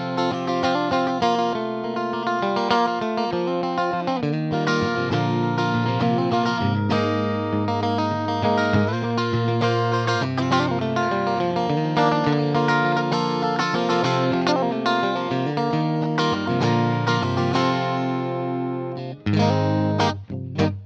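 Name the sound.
electric guitar, bridge and middle pickup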